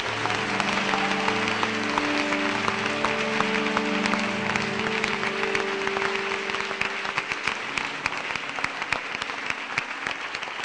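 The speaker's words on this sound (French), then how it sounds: "Acclame pour ta propre vie" A church congregation claps and applauds for about ten seconds, a dense patter of many hands under a sustained held note that fades partway through.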